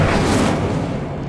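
Incendio fire spell cast in Hogwarts Legacy, a single loud whooshing burst that flares up and quickly fades over about a second.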